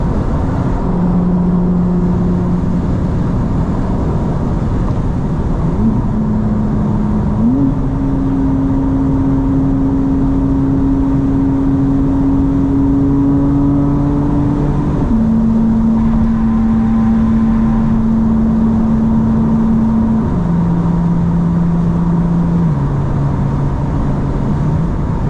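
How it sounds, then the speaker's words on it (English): A 2025 BMW M4 CS with aero parts cruises at night, its engine droning steadily from inside the cabin, the pitch holding and stepping between gears with no speech. "What a crazy car."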